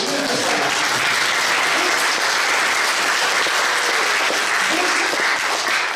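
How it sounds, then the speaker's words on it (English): Steady, dense applause from an audience at a memorial service, loud and continuous for the whole stretch with no talk over it. "Let's give him a round of applause."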